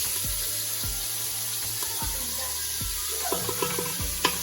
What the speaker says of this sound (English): We're gonna add some onion, as much as you want.